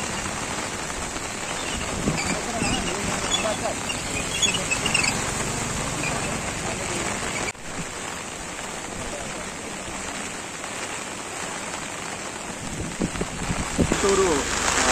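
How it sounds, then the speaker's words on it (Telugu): Steady rain falling over the city of Chittoor, a continuous hiss and patter holding at an even level throughout, with a brief dip midway and faint voices mixed in underneath. "చిత్తూరు నగరంలో కురుస్తున్నటువంటి వర్షాలు నిన్న మార్నింగ్ నుంచి స్టార్ట్ అయ్యాయి."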